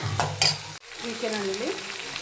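A tempering for poha fries in a pan as a spoon stirs with a few scraping strokes, followed by a short pause and then a steady, close sizzle.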